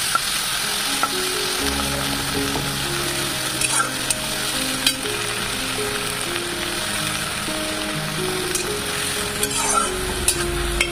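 Chopped onions frying with garam masala in a pan, giving a steady, close sizzle broken by stirring scrapes, with faint melodic music underneath and no voices.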